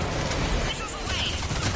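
Missile salvo launching in the Mass Effect 3 video game, a dense, sustained rushing roar of rapid bursts over about two seconds, with a voice talking over it.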